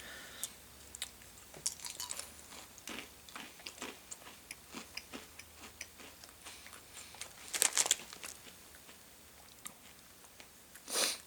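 Close, crisp crunching and chewing of popcorn-flavored M&Ms, with irregular bites and crackles spread throughout and a couple of louder crunches near the end, no talk.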